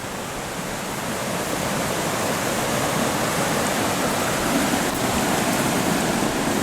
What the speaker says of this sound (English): the river's still a little high